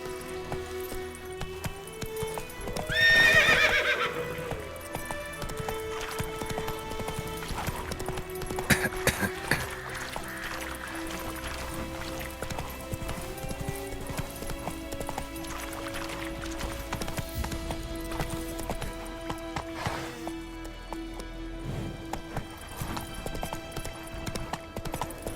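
Roach, the horse in The Witcher 3, trots in game with rhythmic hoof clip-clop beneath music and ambient sound, and one louder burst partway through.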